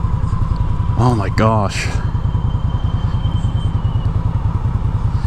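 A 2016 Victory Octane motorcycle engine fitted with a Vance & Hines exhaust, a loud, close, rhythmic lumpy thrum with a brief revving swell, while a person speaks briefly over it.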